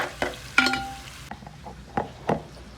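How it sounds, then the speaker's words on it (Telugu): Ginger garlic paste goes into onions, curry leaves and dried red chillies frying in a pan, bringing a close sizzle with sharp metallic spoon clinks and scrapes at irregular intervals. "అప్పుడు ఇందులో అల్లం వెల్లుల్లి పేస్ట్ వేసుకోవాలి."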